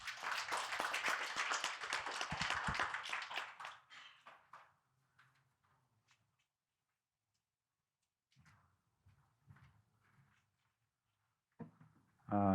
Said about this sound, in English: Please give him a round of applause, Associate Professor Park.